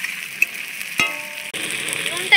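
Chopped tomato drops into a hot pan with grated ginger, bringing a sharp metallic clank and then a steady close sizzle that builds over the last second.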